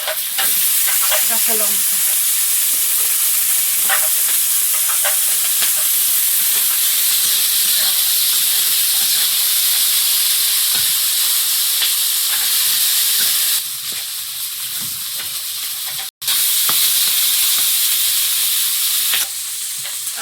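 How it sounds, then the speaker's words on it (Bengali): Onion and chopped garlic sizzle loudly in hot oil with fish in a pan, a steady bright frying hiss broken by occasional stirring and scraping, with a brief spoken word near the start. "তেলের মধ্যে মাছ ফোড়ন দিয়ে পেঁয়াজ আর কুচানো রসুন দিয়ে দেবো"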